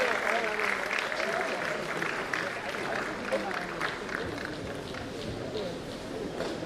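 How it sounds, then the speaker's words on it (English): Steady applause fills a swearing-in ceremony hall as a guest is welcomed, the clapping even and moderately distant, blended with crowd noise throughout. "Please keep clapping to the guest."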